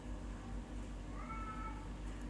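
A cat gives a single soft meow partway through, faint and drawn out over a steady low background hum, with no talking.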